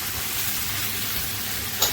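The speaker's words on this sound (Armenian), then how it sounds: "Բարձր կրակի վրա բեկոնը լավ տապակում ենք, առանց ձեթի, առանց յուղի ոչ մի բան չենք ավելացնում" Bacon frying in a pan over high heat without added oil, a steady close crackling sizzle with a brief sharper pop near the end and no speech.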